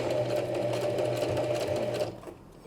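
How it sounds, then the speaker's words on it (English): A sewing machine runs steadily as it stitches fabric for a simple coin purse, a close, even mechanical whir that stops near the end, leaving quieter room sound. "I'm just going to sew on the inside of that line"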